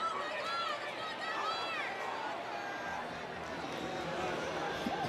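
Football crowd at a James Madison at Georgia State game reacting from the Duke sideline after a dropped pass, a broad steady roar with cheering voices rising and falling throughout, fairly distant, mixed with crowd chatter.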